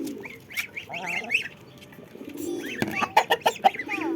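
Chickens cluck and squawk nearby in a short series of sharp, uneven calls, denser and louder toward the end, with no talking over them.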